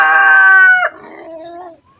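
A rooster lets out one loud, close crow that breaks off sharply, followed by a quieter, lower trailing call before falling silent.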